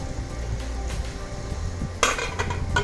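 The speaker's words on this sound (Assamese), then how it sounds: "এতিয়া তিলখিনি ভজা হোৱালৈ আমি ঢাকোনখন আকৌ মাৰি দিম" A metal lid is set back onto a pan of frying sesame with a sharp clank near the midpoint, followed by light rattles, over a low crackle from the pan.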